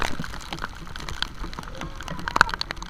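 Steady rainfall patters down in a dense wash, with scattered drops striking close by and a few brighter splashes near the end.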